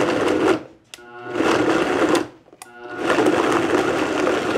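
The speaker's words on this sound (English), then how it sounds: "Put the top on the blender. Start blending." Kitchen blender whirring through carrots with a little cold water, a loud continuous motor roar that cuts out briefly twice before starting up again, with no talk over it.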